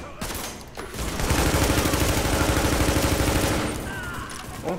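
Sustained automatic gunfire from a weapon in the video game The Division, a dense rapid burst of shots filling most of the moment, loud and continuous before tapering off.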